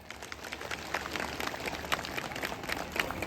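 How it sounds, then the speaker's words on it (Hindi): An audience gives a burst of applause for Dada at a tribal community gathering, dense crowd clapping heard from a moderate distance, steady for a few seconds without talk. "दादा के लिए एक जबरदस्त ताली।"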